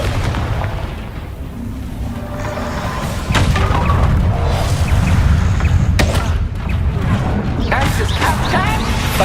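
A Confringo blasting spell goes off in Hogwarts Legacy with a booming burst, followed by rumbling, echoing game effects and a second sharp impact a few seconds later.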